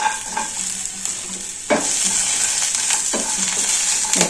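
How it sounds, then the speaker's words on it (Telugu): Green chillies frying in oil for a peanut chutney, a steady close sizzle that flares louder after a sharp stir, with further scraping strokes of a spatula in the pan. "నూనె వేసుకొని చట్నీకి మిరపకాయలు అవన్నీ వేయించుకోవాలి"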